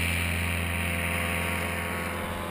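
A paramotor engine drones steadily and loudly at an airfield during a training day, a continuous close motor hum with no talk over it.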